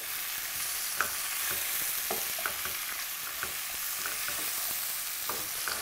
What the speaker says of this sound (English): And you stir this until the zucchini is well coated.